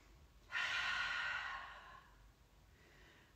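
A deep, slow inhalation during a Tadasana (mountain pose) yoga breathing exercise, a long airy breath drawn in close to the microphone and tapering off, heard alone without talk.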